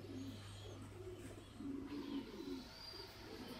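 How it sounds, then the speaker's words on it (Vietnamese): A trumpeter pigeon kept as an ornamental bird coos in a few soft, low, rolling phrases, close by, over a steady low hum and faint background chirps. "đây là con chim bồ câu thổi kèn đấy"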